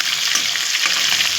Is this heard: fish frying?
yes